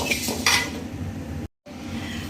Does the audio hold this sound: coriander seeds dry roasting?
yes